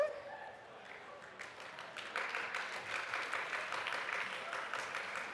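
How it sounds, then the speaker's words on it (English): Faint, distant clapping from an audience at a Surrey student election question-time debate, thin at first and swelling into a fuller, steady round of applause after a couple of seconds. "Excellent, that's what I want to hear, lots of clapping."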